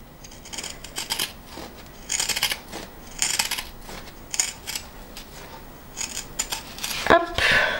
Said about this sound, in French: je prends donc mes ciseaux cranteurs et je vais enlever le surplus de tissu tout le tour